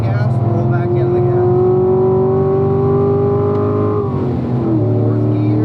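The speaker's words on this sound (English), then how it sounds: "Roll off the gas, roll back into the gas." Chevrolet Corvette engine holds a steady, loud drone on a race track, its pitch climbing slightly then dropping as the throttle eases, heard from inside the car with no clear talk over it.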